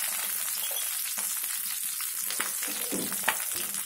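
Mushrooms and salt frying in a kadai pan: a close, continuous bright sizzle with a few small crackles and stirring clinks, no voices.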